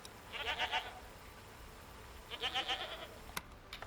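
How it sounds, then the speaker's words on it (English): A goat bleats twice in a game set in a quiet apocalyptic countryside, two short wavering calls separated by a pause, fairly close over faint ambience. "maybe that goat will help us progress"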